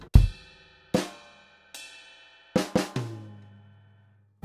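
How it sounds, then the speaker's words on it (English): A drum kit played solo in a lesson: a sparse groove of kick and cymbal-ringing hits, then two quick snare sixteenths and a resonant high tom stroke that rings out at the end. "on the fourth beat, we've got two 16th notes on the snare drum and an eighth note on the high tom or small tom"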